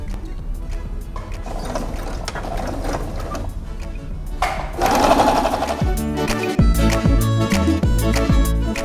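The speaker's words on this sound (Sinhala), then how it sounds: "මේ උඩින් මැෂින් ලයින් එකක් දාගන්න" A sewing machine stitches a topstitch line along the edge of a fabric lunch bag, running in steady continuous bursts that grow louder and more clattering toward the end, with no talking.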